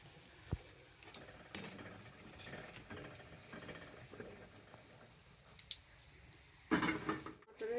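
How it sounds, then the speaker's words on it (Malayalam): Paneer curry masala being stirred in a pan at home, a Bihari-style recipe, with scattered scrapes and soft clinks of the spoon against the metal and one louder clatter near the end; no talking. "ഇത് നമ്മൾ ചോപ്പാവണ വരെ ഇങ്ങനെ തന്നെ നമ്മളിതിൽ ഇളക്കിക്കൊണ്ടേ നിൽക്കും"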